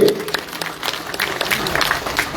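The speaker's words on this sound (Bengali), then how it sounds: "আমি আপনাদের প্রিয় এমএলএর জন্য একটা করতালি চেয়ে নিচ্ছি" A crowd at a Bengal political rally breaks into a short burst of applause, loud and close, with scattered voices mixed in.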